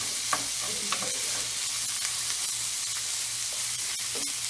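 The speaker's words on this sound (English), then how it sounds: "as we have our peppers kind of just simmering around in here, and our, Simmer them peppers. and our spam cooking" Peppers and Spam cooking in a pan give off a steady, low sizzle with occasional stirring clinks and scrapes, close and continuous throughout.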